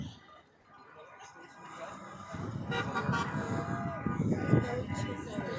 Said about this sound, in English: Lot of honking.